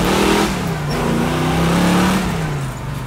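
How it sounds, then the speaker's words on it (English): A 1965 Ford Mustang Fastback engine revs up as the car accelerates, a loud, close, throaty roar whose pitch climbs and holds before easing off, with no talk over it. "we'll give her a little bit of gas"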